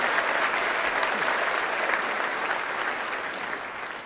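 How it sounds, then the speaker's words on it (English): Dense, steady applause from a large audience at a business celebration luncheon in St. Louis fills the room, tapering slightly toward the end with no speech over it. "give them a great round of applause"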